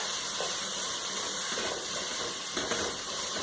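Cooked red pepper and tomato soup vegetables stirred in a pan over low heat, giving a steady sizzling hiss with soft scraping accents as the spoon moves through them, close and continuous.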